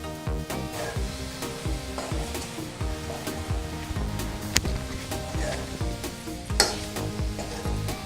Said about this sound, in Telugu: ఈ విధంగా వంకాయలు బాగా మగ్గిన తర్వాత రుచికి తగినంత ఉప్పు, 2 టీ స్పూన్ల కారం కూడా వేసి ఒకసారి బాగా కలుపుదాం.